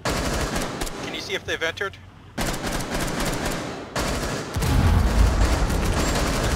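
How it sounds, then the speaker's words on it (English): Gunfire in the tactical shooter Rainbow Six Siege during a Hereford Base team deathmatch, rapid automatic bursts close by, then a louder heavy barrage, with players talking throughout. "They're shooting into a briefing."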